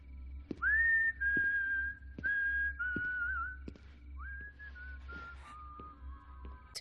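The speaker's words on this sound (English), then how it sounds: "whistling is a terrifying tool in a horror setting" A lone person whistles a slow, wavering tune as a horror film sound, with several sustained notes and pauses over a quiet backdrop and faint sharp taps.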